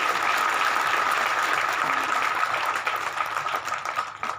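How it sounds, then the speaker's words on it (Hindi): Applause from an audience at an outdoor public ceremony, a steady broadband patter of many hands filling the whole stretch and thinning slightly toward the end, with no talk over it. "आप भी तालियां बजा के उसका अभिनंदन कीजिए।"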